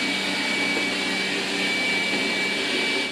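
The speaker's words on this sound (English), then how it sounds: "the noise level of the ROBOROCK E5 is above average" A Roborock E5 robot vacuum at maximum power gives off a loud, steady whooshing roar with a thin high whine on top, constant and close throughout, with no talking.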